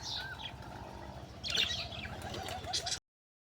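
A red pigeon gives faint soft coos and chirps amid quiet background rustle, with a slightly louder burst midway before it stops.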